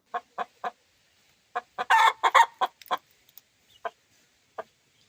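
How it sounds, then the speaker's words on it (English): Hens cluck in short repeated bursts, with a louder, drawn-out squawking call in the middle, fairly close by and otherwise quiet. "Those crazy hens out there have been making so much noise"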